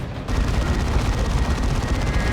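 Heavy cannon and gunfire from a Space Marines versus Chaos battle in Warhammer 40,000: Dawn of War 2, a dense continuous rumble of rapid shots and booms starting abruptly and holding steady.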